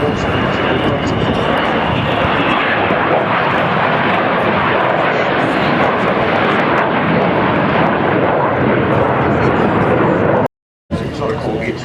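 An Avro Vulcan jet bomber flies at the RAF Waddington Airshow in 2010, producing a loud, continuous, rumbling roar that fills the clip and cuts out briefly near the end.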